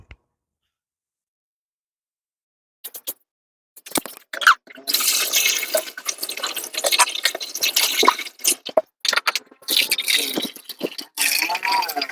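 Mineral water poured from a one-liter supply into a container, a steady splashing trickle that starts after a few seconds of near silence and runs on with small gurgles and drips.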